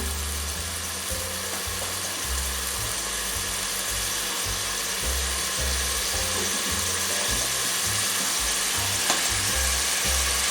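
Chopped leeks and three small carrots sauté in a pan for a Turkish olive-oil leek dish, a steady close sizzle with low rumbling underneath and no talking.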